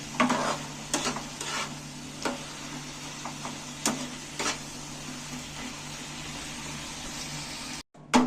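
A spoon stirs soft boiled tomatoes in a hot pan, giving several scraping, clacking strokes spread over the stretch against a low steady sizzle and simmer, with a brief dropout near the end.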